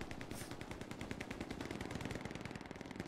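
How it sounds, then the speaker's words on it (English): Machine gun fire in a video game, heard as steady rapid bursts of shots with a distant, rolling character that runs continuously with no one speaking. "You don't hear machine gun fire. Oh yeah, in the distance."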